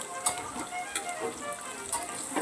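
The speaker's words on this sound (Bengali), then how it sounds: "একটু নাড়াচাড়া করে। তারপর পেঁয়াজটা যখন ভাজা হয়ে গেল" Onions fry in a pan with garlic, giving a steady soft sizzle broken by faint periodic scraping as they are stirred, heard close and without talk.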